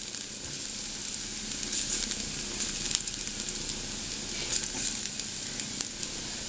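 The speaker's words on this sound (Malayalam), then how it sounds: "ചെറുതായിട്ടൊന്ന് ഈ ഇഞ്ചി വെളുത്തുള്ളിലേക്ക് ചെറുതായിട്ടൊന്ന് ഫ്രൈ ആയാൽ മതി." Ginger and garlic fry briefly in hot oil while a Kerala seasoned buttermilk is being made: a continuous, close, even sizzle and hiss with light stirring and no voices.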